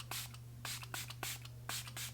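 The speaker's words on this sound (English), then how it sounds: "I'm going to top it with the One Size Until Dawn Mattifying Waterproof Setting Spray" One Size Until Dawn mattifying waterproof makeup setting spray misted in four or five short, quiet hissing pumps at a steady pace over a low background hum.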